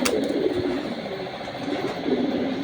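A red checker pair of racer pigeons, a healthy hen among them, cooing softly and steadily at close range with no talk over them.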